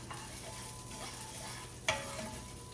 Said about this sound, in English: Let me stir this around a little bit